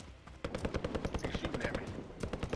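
Rapid automatic gunfire in a video game, a dense stream of sharp shots rattling for about two seconds with brief breaks, loud and close under faint game noise.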